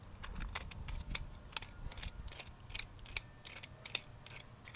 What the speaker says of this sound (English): just little tiny cuts, just cutting away the fiber.